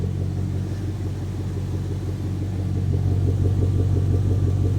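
A V8 engine idles steadily through dual exhaust pipes with extended tips, giving a deep, even rumble close by that grows slightly louder and fuller toward the end.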